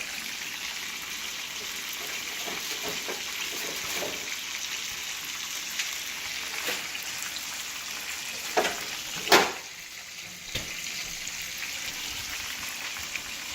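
A stick of butter sizzles and fries steadily in a hot pan with a continuous crackling hiss, plus a few louder pops and spatters partway through.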